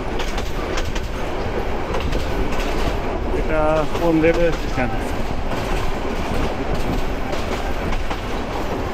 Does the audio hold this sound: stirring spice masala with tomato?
no